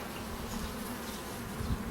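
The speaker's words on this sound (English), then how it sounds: "We're going to lift this up and we'll see some bees." Honeybees crowd an opened beehive's inner cover on a dairy farm tour, giving a steady, close, continuous buzzing hum with no talking.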